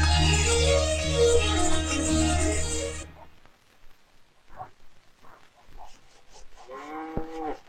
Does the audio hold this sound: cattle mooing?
yes